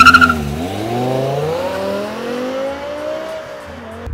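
A 2006 BMW M6 launching with launch control, the engine note rising in strong harmonic sweeps as it accelerates hard, loud and close, with a brief higher tone at the start and no talk.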